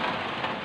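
Steady rain falls with an even, dense hiss, continuous and fairly close, on the rooftop deck of a three-storey 8x8 swiftlet building.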